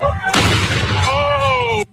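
Illegal fireworks exploding on a city street after midnight, one loud close blast with a sharp onset followed by a crackling, ringing tail lasting about a second and a half.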